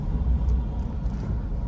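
Steady low rumble of heavy road traffic on the NH48 highway near Delhi, a continuous broadband vehicle drone heard from inside or beside the flow, with no distinct horns or talk standing out.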